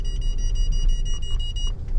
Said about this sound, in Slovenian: Vse piska.